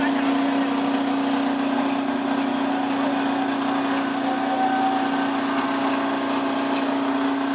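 A double-combine rice mill machine driven by a 4.5HP single-phase motor runs steadily, a continuous mechanical hum with a strong tonal drone and whirring rattle, loud and unbroken throughout.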